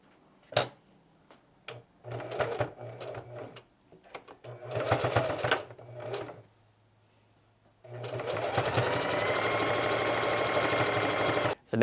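A sewing machine runs a straight stitch along a hoodie seam joining hood to body, starting in short bursts of a few seconds each, then ending in a long, steady, continuous whirring run, close and fairly loud.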